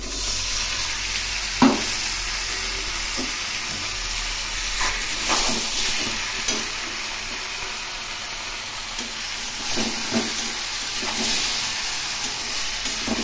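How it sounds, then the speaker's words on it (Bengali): Marinated fish slid into hot oil with bay leaf, giving a steady, close sizzle and hiss of frying with a few sharp spatter pops and stirring clinks throughout. "এখন এর মধ্যে মাখিয়ে রাখা মাছগুলো দিয়ে দিলাম।"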